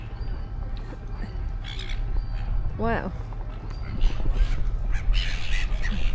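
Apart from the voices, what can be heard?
seagulls squawking at the shore, competing with a diving pelican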